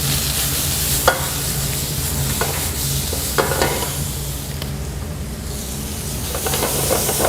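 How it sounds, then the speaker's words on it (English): Lo mein noodles stir-fried in a hot, oiled pan make a loud, steady sizzle and hiss, broken by a few scraping stirs of a utensil, close and without talk. "That's called stir frying, baby."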